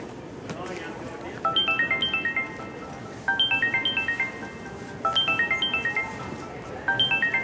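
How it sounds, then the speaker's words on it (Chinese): A melodic phone ringtone signals an incoming call in a Chinese urban drama. The short descending chime phrase repeats four times in steady bursts over a quiet room background. "他们苏队来电话了。"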